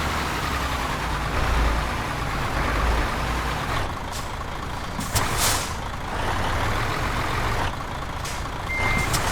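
A truck with a trailer reverses in Euro Truck Simulator 2 at night, its engine rumbling steadily under repeated reversing beeps and short hisses of air brakes.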